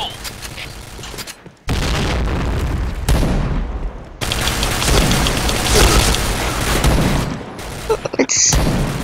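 A bomb goes off amid heavy gunfire in the shooter game Point Blank, with loud bursts of explosions and rapid shots that fill the mix and drop out briefly between volleys.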